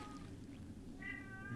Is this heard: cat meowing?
yes